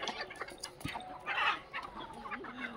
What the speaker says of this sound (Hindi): कड़कनाथ काले कलर की होती है जो ये कड़कनाथ मुर्गी है